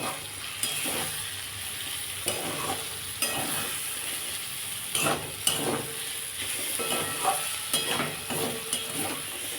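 Brinjal frying in a pan with mashed neem leaves, a steady sizzle broken by repeated scraping stirs, close and alone without talk.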